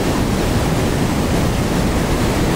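Water rushing loudly at the Terna dam, a dense continuous roar that fills the whole moment without letup, close and powerful.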